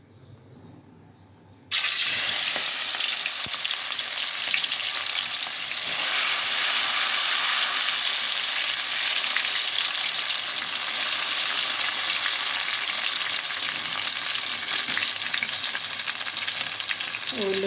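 Chopped onions and green chillies for a Nellore-style fish curry hit hot oil in a pan with a sudden loud sizzle, then fry steadily with stirring scrapes close by.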